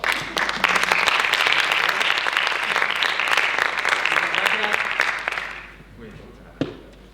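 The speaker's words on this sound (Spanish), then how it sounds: "Yo voy a pedir un aplauso para Miguel, que nos ha ayudado, por favor." A crowd applauds steadily for about five seconds, then the clapping fades out into near silence with one last sharp clap.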